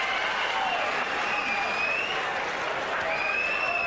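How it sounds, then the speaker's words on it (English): Boxing arena crowd at a heavyweight bout cheering and applauding steadily throughout, a dense continuous roar with scattered whistles rising above it. "there are a fair number of Byrd rooters in the crowd."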